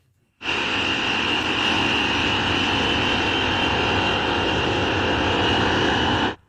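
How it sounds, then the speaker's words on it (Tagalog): Two Boeing E-3 Sentry airborne early-warning aircraft fly together toward Prince Sultan Air Base in Saudi Arabia, a loud steady engine roar with a whining tone that starts abruptly and holds evenly throughout. "Dalawa sila, magkasabay na lumilipad papunta sa Prince Sultan Air Base sa Saudi Arabia. Ito ang E-3 Sentry."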